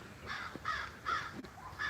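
A crow cawing repeatedly, four harsh, evenly spaced calls at moderate distance with low background noise and no talk.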